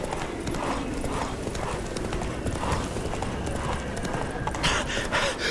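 Hooves clip-clop in a steady galloping rhythm from Roach, the horse in the video game The Witcher 3, with a brief whinny, loud and close over continuous game ambience.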